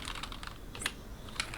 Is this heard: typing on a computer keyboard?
yes